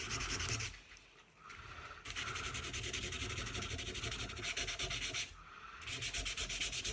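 Close, brisk sanding with 240 grit sandpaper on a golf club shaft and grip, steady rubbing strokes in a fast back-and-forth rhythm with a few short pauses, no talking.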